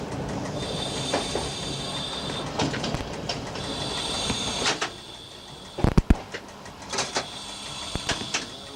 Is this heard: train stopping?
yes